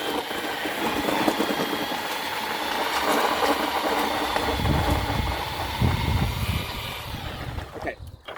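A concrete mixer churns a batch of concrete at low speed, giving a steady, close mechanical drone and rumble that runs without a break for several seconds before cutting off near the end.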